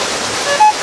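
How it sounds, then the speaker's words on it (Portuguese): Floodwater pours into a street during a rainstorm in Itaquiraí, a loud, steady broadband rush of water close by, with no talk over it in this brief moment. "Olha como tá de água entrando."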